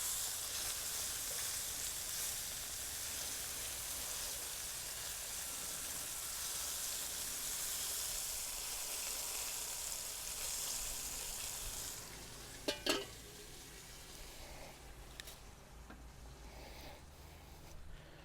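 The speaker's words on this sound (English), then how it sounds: "get the onions into the pan to start getting a bit of colour on them now" Onions sizzle steadily in a hot pan for a steak and caramelised onion dish, a dense, even frying hiss that drops away near the end, leaving a few faint clicks and quieter crackle.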